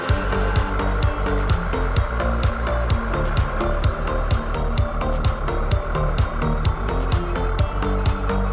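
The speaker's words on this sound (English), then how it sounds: "Let's put the dinghy motor on, go check out shore." A dinghy outboard motor runs steadily close by, its engine thrumming and pulsing with an even rhythm throughout, without talk.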